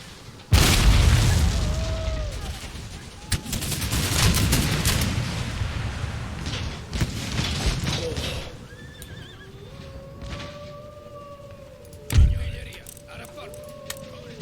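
In an Empire: Total War battle, a massed musket volley booms loudly at the start, followed by rumbling battle noise, horse neighs and hoofbeats, a second sharp burst later, and voices talking over it.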